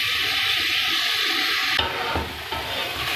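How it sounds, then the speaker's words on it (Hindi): A glass of water pours into a pot of stuffed bitter gourd cooking on the stove, a loud rushing splash that cuts into sizzling and then settles into a bubbling hiss. "एक गिलास पानी शामिल कर रही हूँ।"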